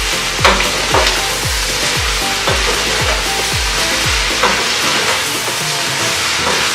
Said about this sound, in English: going to add some of the extra virgin olive oil. 1 circle again. And just mix it around.